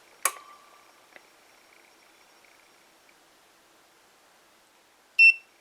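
A Code 3 RLS light unit gives a timer beep: a short tonal chirp, then a faint tick and near silence, ending with a louder, brief electronic beep, with no one talking.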